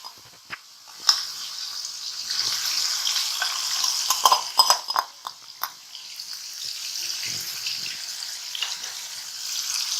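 Chicken fries in a few spoonfuls of oil in a pan, giving a moderate sizzling hiss broken by clattering stirs and small pops, fairly close.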